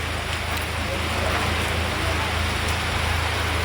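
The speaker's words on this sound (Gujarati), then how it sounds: "વરસાદ તો અહીંયા જોઈ શકો છો ફૂલ વરસાદ પડી રહ્યો છે" Heavy rain falling on a cloudy day, a steady broadband hiss of downpour throughout, fairly loud and continuous with no talk.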